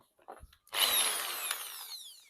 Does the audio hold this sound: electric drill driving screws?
yes